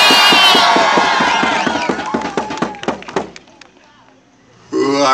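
An outdoor crowd at a Moose Hide Campaign gathering in Victoria, BC erupts in loud whooping cheers with rhythmic clapping or stomping, tapering into scattered claps before a voice starts speaking.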